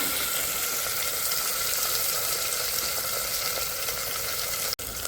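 Onion and tomato sautéing in a pan, with a sliced green chilli, for quick masala rice: a steady, close hiss of frying that runs unbroken throughout, ending with a brief knock just before the finish.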